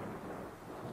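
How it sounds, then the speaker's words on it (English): Thunder sound effect in an audiobook reading of Mark Twain's Tom Sawyer, a deep continuous rumble rolling low and loud for the whole second, with no voice over it. "A deep peal of thunder went rolling and tumbling down the heavens."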